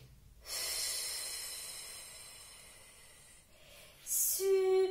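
Deep breathing in for a relaxation exercise: a long, loud, airy inhalation close to the ear that fades out, then a second sharp intake of breath near the end.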